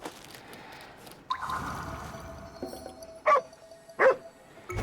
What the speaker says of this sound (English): Oh, there's the dog I heard.